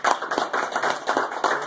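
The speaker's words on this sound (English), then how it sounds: "So, let's give him a round of applause, folks." Short burst of clapping from a small group at a weekly 7 a.m. breakfast meeting at Shoney's on Airport Blvd, a few seconds of uneven, moderately loud handclaps in a room.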